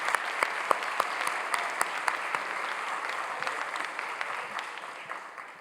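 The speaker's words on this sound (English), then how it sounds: "How about a big round of applause for them?" An audience at a school spring sports awards night applauds honoured athletes, a full wash of clapping with a few sharp, louder individual claps standing out, slowly easing off.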